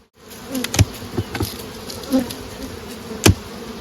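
Honey bees from a small swarm hum in a steady, moderately loud drone, punctuated by several sharp knocks and clicks from working the hive.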